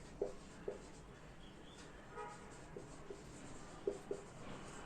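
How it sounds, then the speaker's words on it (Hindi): Faint scratching of handwriting, a pen or marker on paper or a board for a maths lesson, with soft intermittent strokes over a quiet room background. "मैं यहाँ पे लिखती हूँ"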